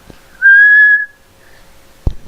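A person whistles in imitation of a referee's whistle: one loud, sustained high whistle lasting about half a second, followed by quiet and a brief thump.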